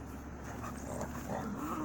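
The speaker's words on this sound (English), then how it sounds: "Oh, barking." Dogs barking excitedly out in the dark at night, the barks muffled and distant, overlapping in a restless cluster against a steady background hum.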